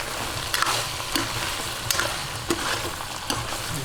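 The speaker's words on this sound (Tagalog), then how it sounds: "Lagay po natin ng hotdog." Hotdogs frying in oil alongside pork and beef for Filipino-style sweet spaghetti, a continuous close sizzle broken by regular stirring clatters about every half second.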